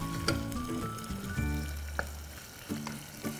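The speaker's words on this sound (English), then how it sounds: "We'll just let the garlic and the ginger infuse its flavor into the oil." Garlic, ginger and green chilies sizzling in hot oil for a Sindhi-style mutton curry, giving a steady close crackle with a few brief utensil clinks and stirring sounds.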